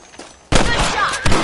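A gunshot in Red Dead Redemption while shooting rabbits: a sudden loud crack cuts in after a quiet stretch, followed by sustained noisy game sound and a second sharp burst near the end.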